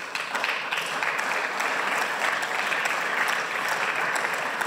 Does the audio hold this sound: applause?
yes